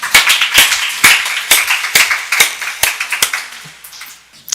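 A church congregation claps together in quick bursts, loud and close, during a Wednesday worship service, then the applause thins out and fades toward the end.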